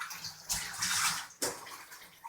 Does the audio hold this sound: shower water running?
yes